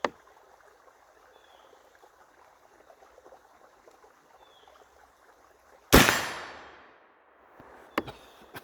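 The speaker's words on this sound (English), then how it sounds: "So I'm shooting 40 grains 3F out of my flask." A single loud, sharp shot from an original .38 percussion cap-lock black powder gun loaded with 40 grains of 3F powder and a hand-cast ball, its report decaying over about a second, followed by faint clicks.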